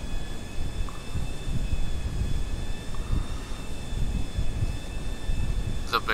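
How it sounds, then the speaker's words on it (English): A Shamal private jet in GTA V holds a steady whining engine tone over a broad rumble throughout, with a brief sharp sound right at the end. "It's a big ass fucking private jet."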